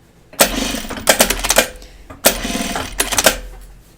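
A sewing machine sews the side seam of a cut-away pocket in loud, close whirring bursts, two main runs each broken by quick stops and restarts.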